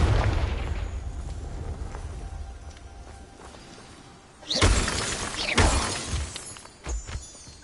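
A Confringo blasting spell in Hogwarts Legacy goes off as a loud burst of shattering, crackling blasts around the middle, following a quieter rumbling stretch and trailing into smaller bursts.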